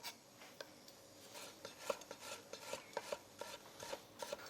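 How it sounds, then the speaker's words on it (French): Knife slicing fresh ginger into thin sticks on a board during Pad Thai prep beside a wok, a run of quiet, irregular taps and scraping rubs, close and soft, with no talking. "je taille quelques bâtonnets de gingembre"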